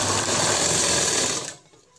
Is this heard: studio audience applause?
no